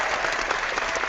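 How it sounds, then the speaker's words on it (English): An audience applauds their team leader, a steady, dense wash of clapping from a crowd that holds evenly throughout without any voices breaking through. "why not give him a big clap too?"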